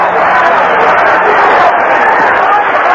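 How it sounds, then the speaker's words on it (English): A boxing crowd at the 1982 Aaron Pryor vs Alexis Arguello fight roars and cheers as a steady, dense wall of noise throughout, with no breaks. "Crowd already starting to cheer."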